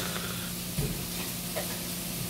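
Meat grilling at a seaside pension gathering, a steady close sizzle and hiss filling the moment with a faint hum underneath and no voices.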